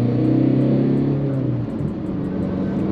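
A Tata Nexon diesel facelift accelerates hard in sports mode, its engine droning loudly and steadily close by as the pitch climbs, with no voices.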